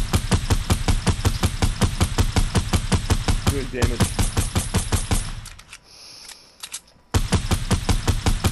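Rapid automatic gunfire in a shooter video game, a dense loud stream of evenly spaced shots that pauses briefly with a faint high tone, then resumes, close and dominant.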